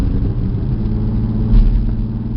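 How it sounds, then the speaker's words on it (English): A car fitted with a new MagnaFlow exhaust accelerates in second gear, giving a loud, steady low engine and exhaust rumble heard from inside the car. "Just got some new exhaust put on it. A mock-up of MagnaFlow, right? Yeah, can you hear it?"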